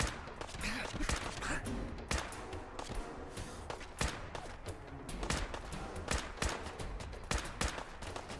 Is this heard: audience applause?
no